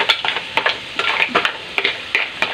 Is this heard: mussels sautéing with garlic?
yes